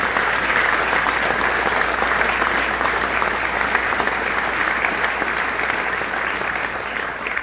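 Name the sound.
audience applause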